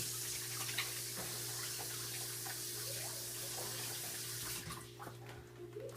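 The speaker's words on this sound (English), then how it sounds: "Rinse my hands off so I don't mess up." A tap runs steadily into a sink while hands are rinsed during burger preparation, a faint, even stream of water that fades out toward the end.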